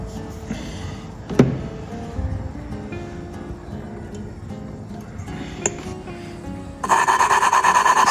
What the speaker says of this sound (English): See that coarse scratch noise? Quite loud.